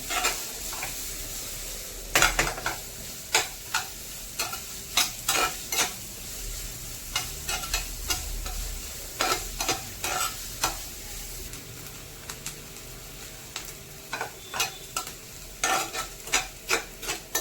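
Onions frying in ghee in a pan for a mushroom ghee roast, a steady low sizzle under repeated sharp scraping stirs of a spatula against the pan, close and alone with no talk.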